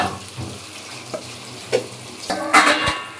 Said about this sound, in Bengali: এখন আমি একটু এটা ভাজিয়ে নেব। এই যে হালকা করে ভাজিয়ে নিচ্ছি।